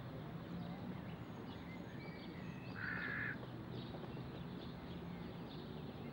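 A single crow in London gives one short, faint caw partway through over a steady city background hum.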